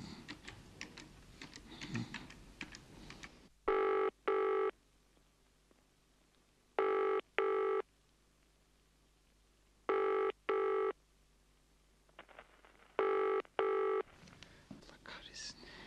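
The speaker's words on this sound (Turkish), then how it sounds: "Hakan'ı arayayım da haber vereyim bari" A telephone rings as a radio drama sound effect, heard as four close double-ring bursts evenly spaced across the scene, with brief movement and muttering before and after.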